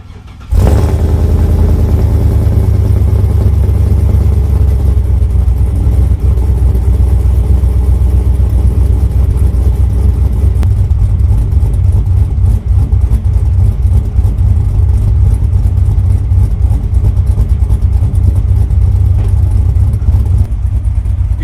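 A cammed 6.0 V8 in a Chevrolet Silverado pickup cranks and fires up loudly on a cold start, then settles into a rough, lopey idle with a choppy, uneven rhythm that continues steadily throughout.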